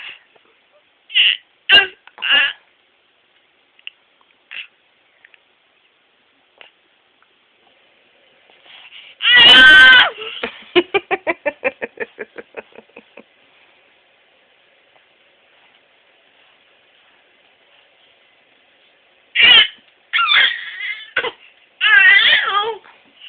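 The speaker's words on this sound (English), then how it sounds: "Oh, bad cough." A person with a bad cough coughs in several short hacking bursts, with long quiet gaps between, one harsh, loud fit near the middle followed by a wheezy, rattling breath and more coughs toward the end.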